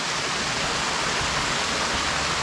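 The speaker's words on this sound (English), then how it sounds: "The water's coming over and taking it that way." A woodland stream in the Faughan Valley pours over large boulders, making a steady, close, full rush of water with no pauses and no voices.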